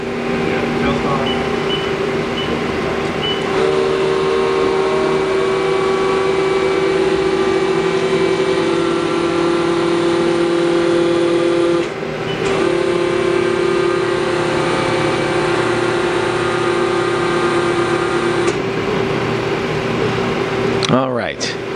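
A 2020 Haas ST-35LY CNC lathe runs its live tool at 1,000 RPM, giving a steady tonal whine over machine hum that shifts pitch partway through, with a brief clunk at the end.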